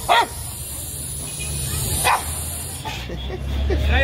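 Dogs bark at an outdoor Friday market in Egypt, a couple of sharp barks near the start and another around the middle, with people talking and general market bustle throughout.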